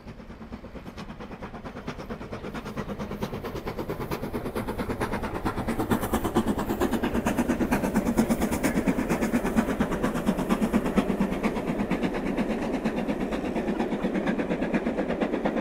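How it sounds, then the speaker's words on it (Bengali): A passenger train rolls past a station platform on a hot day, a steady rumbling clatter of wheels on rails that swells midway and holds loud and continuous to the end, with no talk over it. "অবশেষে কাঙ্ক্ষিত ট্রেন চলে গেল,"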